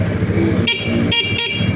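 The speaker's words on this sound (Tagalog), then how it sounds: "Malakas ang kanyang busina." Three short, sharp horn honks from a 2024 Rusi Flash 150X motorcycle blare over a steady engine rumble, close and loud.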